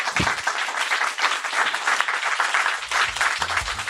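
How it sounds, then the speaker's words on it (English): Audience applauding panelists at the close of a discussion on beauty, with steady dense clapping that holds throughout at an even, moderately loud level. "let's give a round of applause then to all of our panelists."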